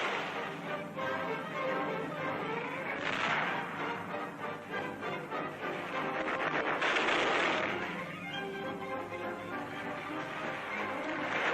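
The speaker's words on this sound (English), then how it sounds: "Light artillery comes up to support the advance elements" Light artillery and gunfire from a 1944 Pacific battle rumble and crack steadily through dense, noisy old newsreel sound, with a few louder blasts standing out.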